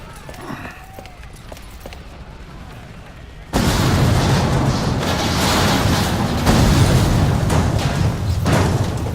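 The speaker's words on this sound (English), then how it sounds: "Explosions!" Booming explosions erupt suddenly and keep rumbling loud and dense, following a quieter stretch of scattered clatter and noise.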